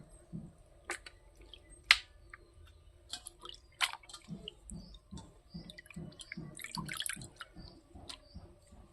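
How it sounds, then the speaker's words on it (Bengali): Raw goat mutton being rinsed by hand in water, with irregular wet drips, splashes and squishy handling sounds up close, growing into a steady rhythmic sloshing in the latter half, with no talking. "মাংসটা এইভাবে এমনিতে ধুয়ে নেব।"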